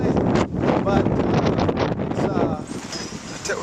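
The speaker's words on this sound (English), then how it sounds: "Now, it's so windy today." Strong wind buffets the microphone beside a 40-foot Seawolf sailboat on Lake Ray Hubbard, loud rumbling gusts that rise and fall, with faint talk and water sounds underneath.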